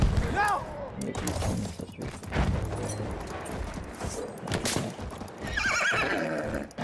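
Horses in the video game Battlefield 1 give loud whinnies over galloping hooves amid gunfire and in-game bursts, with a person talking over the action.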